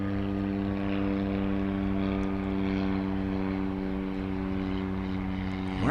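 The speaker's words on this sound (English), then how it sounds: "I hear a propeller plane" A propeller plane drones by at night near DFW Airport, its engine giving a loud, steady harmonic hum that holds throughout and swells slightly at the end.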